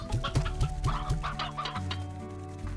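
Chicken clucking in the Slime Rancher video game, a quick run of repeated clucks in a steady rhythm over constant game music, loud and close.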